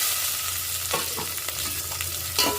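Chopped green chilli hits a hot tempering of cumin, urad dal, chana dal and garlic in a pan for a sour amaranth-leaf curry, giving a steady close sizzle with a few soft stirring scrapes, with no voices.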